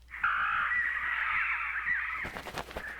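Crows in a visual novel game give a loud, harsh, sustained cawing cry, then a rapid burst of rattling sounds follows at the end.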